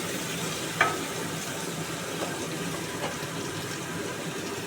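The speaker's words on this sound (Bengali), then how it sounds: "আপাতত পটল আর আলুটা নাড়িয়ে চাড়িয়ে" Pointed gourd and potato sizzle steadily in a frying pan, a continuous close hiss with a few scraping stirs of a utensil, no voices.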